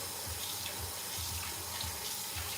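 Tap water runs steadily into a cooking pot at a kitchen sink, a continuous hissing splash with a low gurgle that pulses as the pot fills, close and alone with no talk.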